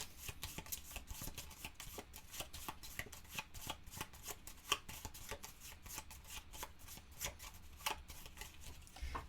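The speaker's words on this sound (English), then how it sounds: "We're going to shuffle them." Board game cards for Fallout are riffled and shuffled close up, a rapid run of crisp flicking bursts repeating steadily for several seconds with no talk.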